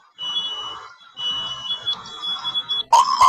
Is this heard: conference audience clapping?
no